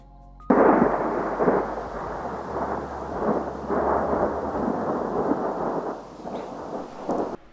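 Rolling thunder from a storm moving in over a forest in Utah, a deep sustained rumble that starts abruptly and swells and fades in waves for several seconds, loud and close, with no voices.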